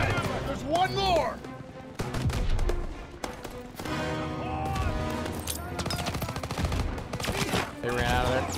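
Rapid bursts of massed rifle and machine-gun fire from Call of Duty: WWII crackle back and forth across a battlefield, layered with shouted voices and a dense, busy mix throughout.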